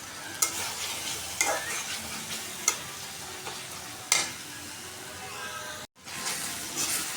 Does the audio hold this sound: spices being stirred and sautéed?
yes